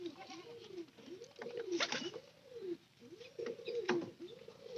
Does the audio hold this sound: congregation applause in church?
no